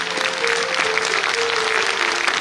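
An audience at a Hindi poetry recitation honoring Atal Bihari Vajpayee claps steadily, a dense, even wash of applause filling the hall without speech over it.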